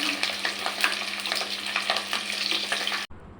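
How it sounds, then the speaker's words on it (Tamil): Sambar onions (small shallots) sautéing in a pan, a close, continuous hissing sizzle with quick stirring scrapes, cutting off abruptly near the end. "இப்போ வெங்காயம் வதங்கிடுச்சு கறிவேப்பிலை போட்டு வதக்கலாம்"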